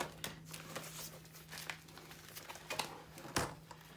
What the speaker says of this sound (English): I think I had to cut the last page.